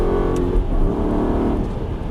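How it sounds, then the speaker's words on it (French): An Aston Martin Vantage V8 engine revs hard on a racetrack, a loud, close, throaty drone with steady harmonic tone held throughout. "On essaie d'exploiter un petit peu plus le régime moteur."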